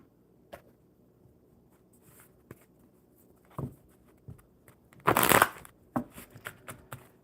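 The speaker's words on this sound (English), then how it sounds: "I will shuffle these ones for Shaha." Quiet, scattered rustles and taps, then a brief crisp riffle of playing cards being shuffled, followed by a few light card snaps.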